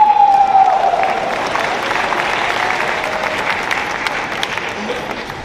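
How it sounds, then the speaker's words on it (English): A large audience at a university singing competition breaks into loud, dense applause that holds steady and slowly eases off, with some cheering mixed in. "Can we give them another round of applause?"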